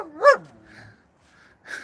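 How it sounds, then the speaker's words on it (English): A dog gives one sharp, close bark, then the clip falls nearly silent before a second, shorter yip near the end. "here's that dog"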